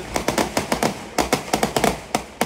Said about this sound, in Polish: Te petardy często służą do komunikacji pomiędzy